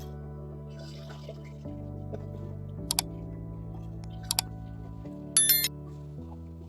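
A newly installed toilet flushes and its tank refills, giving a steady low hum of running water broken by a few sharp clicks and drips, quiet and close, with nobody talking.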